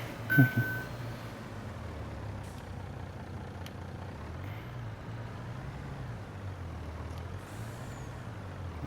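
Heavy tractor and loaded trailer in Farming Simulator 22 slowing under air brakes, a short hiss burst near the start over a steady low engine drone that rises and falls through the rest.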